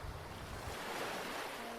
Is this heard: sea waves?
yes